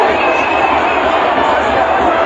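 A huge crowd of supporters at a mass political rally in Monrovia roars continuously, a loud, dense, unbroken wall of voices and cheering close around.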